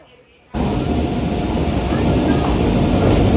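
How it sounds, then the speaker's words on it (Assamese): A passenger train arrives and rolls in, a loud, steady, close rumble that bursts in suddenly after a quiet moment and holds for a few seconds, with faint voices nearby. "আৰু ফাইনেলি ৰেল আহি গেল"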